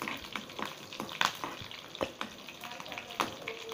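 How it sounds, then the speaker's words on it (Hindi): Mustard seeds, chilies and curry leaves fry in oil, sizzling and crackling steadily with scattered sharp pops, close up and fairly quiet, with no voices. "जब तक ये तल रहा है"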